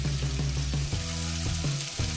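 Calabresa sausage and chopped bacon fry in a pan for farofa, with a loud, steady close-up sizzle and crackle and a low pulsing hum underneath, no talking.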